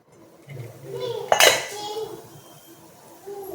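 A lid is set over an uttapam pan with a single sharp metallic clank, followed by a quieter rattle and low kitchen noise.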